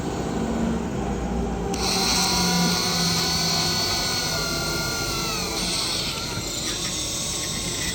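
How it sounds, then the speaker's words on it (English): A high-pitched Dremel with a drill attachment whines steadily throughout, drilling an opening in a toy ghost trap with a gritty buzz that shifts slightly in pitch as it bites. "I'm using a drill attached to the Dremel"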